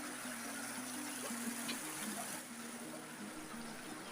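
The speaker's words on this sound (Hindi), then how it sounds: "अभी पानी अपनी रफ्तार में बह रहा है।" Fast water rushes along a stream as a continuous low, even wash of noise, heard faintly from some distance outdoors.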